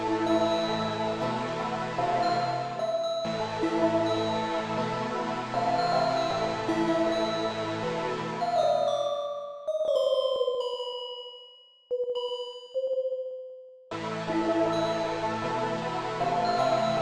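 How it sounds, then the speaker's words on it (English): A small bell-like synth preset named Child's Play rings a melodic line inside a dark, aggressive rage beat, layered over dense bass and drums, then plays nearly alone through a sparse break before the full beat returns. "let's just add like this little bell sound."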